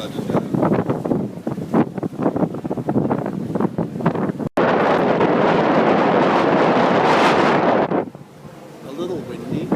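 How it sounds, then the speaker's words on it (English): Strong wind gusting across an outdoor spot in London, a loud roaring rush buffeting the microphone in bursts, swelling to a steady heavy blast for several seconds before easing off. "A little windy."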